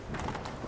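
A horse galloping in The Witcher 3, a brief burst of quick, rhythmic hoofbeats over busy game background noise.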